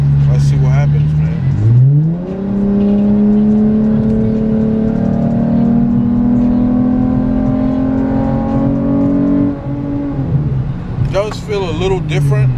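A V6 Dodge Challenger fitted with a throttle body spacer accelerates hard, its engine note climbing and holding a loud sustained roar for about eight seconds before easing off, with a voice heard toward the end.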